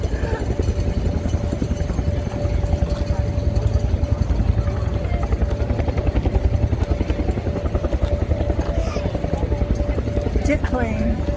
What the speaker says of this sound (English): This is a jet plane.